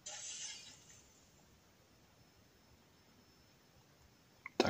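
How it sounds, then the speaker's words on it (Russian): Glass window shattering in a video game, a bright crash at the start fading into near silence, then a short sharp clink at the end. "Будем стекла бить."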